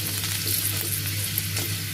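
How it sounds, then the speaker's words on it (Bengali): Onion, chili and carrot fry in a little mustard oil, giving a steady, close broadband sizzle with a low steady hum beneath and no talk. "তো আমি এখানে পেঁয়াজ, মরিচ আর গাজরটাকে হালকা তেলের মধ্যে এই যে ভেজে নিচ্ছি।"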